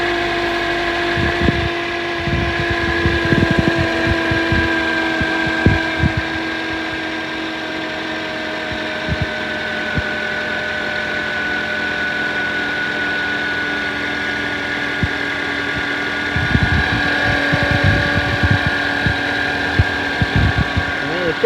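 A Toyota Corolla engine running with a loud noise from the engine bay, a steady mechanical drone with tonal whine and irregular knocking bursts, fairly close and continuous.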